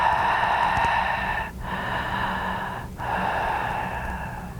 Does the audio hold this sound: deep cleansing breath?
yes